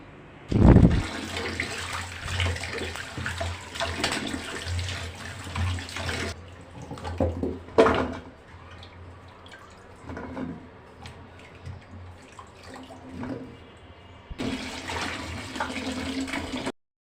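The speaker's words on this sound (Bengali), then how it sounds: "আমগুলো ভালো করে ধুয়ে নিলাম" Mangoes cut for pickle-making are rinsed under running water, a steady splashing gush from a tap with a loud burst at the start, a quieter stretch in the middle and the flow surging again near the end.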